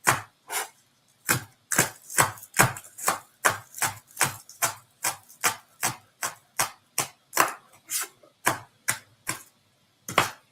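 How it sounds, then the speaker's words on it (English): Knife rocked against a cutting board while chopping Brussels sprouts, producing a steady run of about twenty crisp, close chops in quick even rhythm with brief pauses between some strokes. "You never lift the knife fully off, just rock it on the board."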